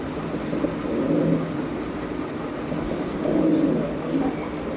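Fancy pigeons coo in two low, rolling bursts, one near the start and one past the middle, over a steady background hum, with no talk.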